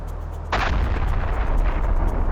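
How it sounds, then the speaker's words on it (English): A sudden loud missile explosion striking a launcher bursts in after a quiet moment, followed by a sustained rumbling roar that lingers to the end. "An explosion of incredible power leaves nothing behind."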